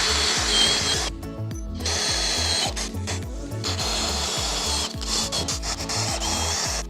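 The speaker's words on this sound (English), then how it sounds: "I've switched to a 3/8 inch drill bit, and we're going to do the 4 tie down" A power drill with a 3/8 inch bit whines steadily while boring tie-down holes in a Jeep storage platform, with brief stops and restarts, loud and close.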